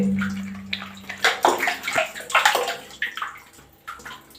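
Water rushes and splashes from a drain in an uneven, gurgling stream, surging louder in the middle before easing off.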